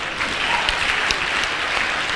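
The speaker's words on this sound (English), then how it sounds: "Ladies and gentlemen, another big round of applause" At a university pre-convocation lecture, the audience claps for the lecturer in a brief, steady burst of dense, fairly loud applause with a few sharper individual claps standing out.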